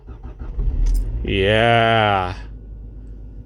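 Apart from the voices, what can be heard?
Nissan car engine starting with key in ignition at -4C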